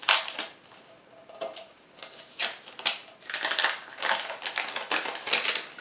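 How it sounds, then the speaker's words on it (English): Paper label being peeled from a food can, heard as a series of crisp crackling, tearing rips that come in uneven bursts, close up with no voices. "You just find the seam and you peel it off from the seam."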